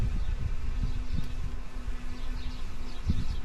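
Honeybee colony in an open hive, queenless and strong in propolis, gives a steady low droning hum with faint high buzzes of single bees passing near.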